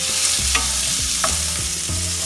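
Panch phoron spices sizzle in hot oil for a Bengali-style palak dal, a steady bright frying hiss broken by several soft stirring scrapes, close and without speech.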